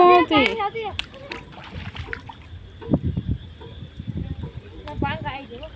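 Water splashing and sloshing in bursts as a child splashes in rainwater, with people talking over it, including a voice early on.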